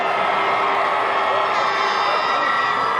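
A stadium crowd roars at a CFL football game at Taylor Field as the BC Lions face the Saskatchewan Roughriders, a steady loud wash of cheering that fills the whole moment.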